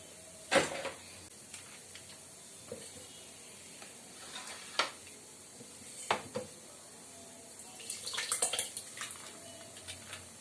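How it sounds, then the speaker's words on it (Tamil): Three ingredients for neer mor and panakam are rinsed in water in a kitchen, heard as soft, intermittent sloshing and splashing with a few louder splashes over a quiet background. "இது மூணுத்தையும் தண்ணி விட்டு நல்லா அலசிட்டு"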